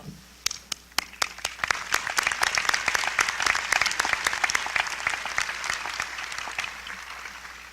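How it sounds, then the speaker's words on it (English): A graduation ceremony audience at Chagrin Falls Exempted Village Schools in 2019 breaks into loud, sustained applause, with dense overlapping claps and sharp individual hand strikes that hold steady throughout. "we applaud you"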